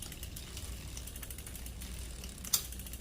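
A Brompton folding bicycle with a newly changed chain clicks steadily and quietly as its chain and freewheel turn up close, then gives one brief sharper click near the end.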